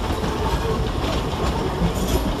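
Class 318 electric trains pull out of Glasgow Central station in a loud, continuous rumble of rolling stock with rail noise filling the short stretch.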